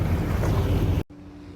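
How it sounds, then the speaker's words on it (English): Boat driven by an 8 horsepower outboard motor while towing a dry dock on open water, heard as a loud, steady rush of engine, water and wind that cuts off abruptly near the end, leaving a quieter hum. "Amazing how fast you can go with an 8 horsepower motor."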